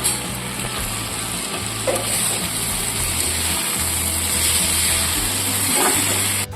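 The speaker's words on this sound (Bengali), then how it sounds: "আদা বাটাটা দিয়ে আবার কষিয়ে নিচ্ছি।" Ginger paste is stir-fried in a pan, giving a constant close sizzle with scraping and stirring noises throughout and no voices.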